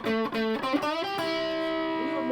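Electric guitar with P90 pickups, a G&L ASAT Junior II, played through a stack-in-a-box amp pedal with reverb off, giving distorted sustained chords and single notes that ring out alone.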